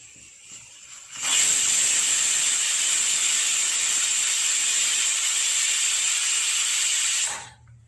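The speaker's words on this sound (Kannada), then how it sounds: "ಕುಕ್ಕರ್ ಇದೀಗ 2 ವಿಷಲ್ ಕೂಗಿದೆ." A pressure cooker cooking amla releases a loud, steady steam whistle that starts abruptly, holds as an unbroken hiss for about six seconds, then cuts off, close by with no talking.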